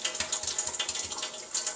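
The bottom of an egg is cracked with a quick series of small, crisp taps and crackles, close and light, over faint running water.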